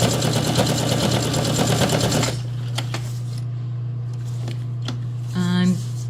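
A sewing machine stitches through a foam junk journal cover in a fast, dense, close burst lasting about two seconds, then stops. A steady low hum and a few faint clicks follow.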